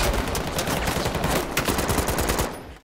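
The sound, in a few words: gunfire in film shootout with SWAT team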